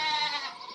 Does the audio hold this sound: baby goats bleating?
yes